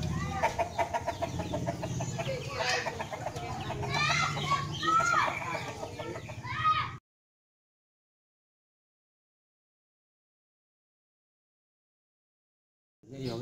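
Joper hens around five months old on an Indonesian farm, clucking and cackling steadily at close range for several seconds before the sound cuts to silence, with a brief return at the very end.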